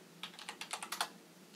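Quick bursts of keystrokes clatter on a computer keyboard, about a dozen close, crisp clicks in an uneven rhythm before stopping.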